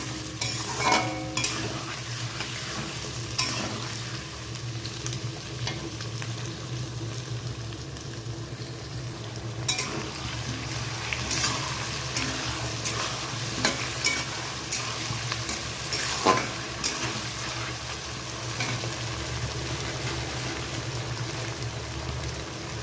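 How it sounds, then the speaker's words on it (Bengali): Potatoes frying in spice masala for a hybrid magur fish curry, a continuous gentle sizzle with repeated close stirring scrapes and knocks of a utensil against the pan, without any talk. "না ভেজেই এই মশলার মধ্যে দিয়েই একসঙ্গে ভাজতে হবে মশলাটাও ভাজা হয়ে যাবে আলুটাও সিদ্ধ হয়ে যাবে"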